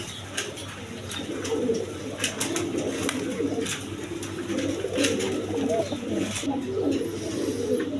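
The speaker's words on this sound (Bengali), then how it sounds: "এখানে এক পেয়ার আপনার রাজশাহীর খয়রি গলা কবুতর দেখেন" A pair of large Rajshahi khoiri-neck pigeons coo in low, rolling bursts amid a busy pigeon-market din, steady and close, with faint voices and clatter behind.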